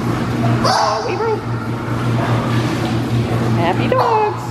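Happy dogs yip, whimper and give short excited barks near a pool, mixed with speech and a steady low hum.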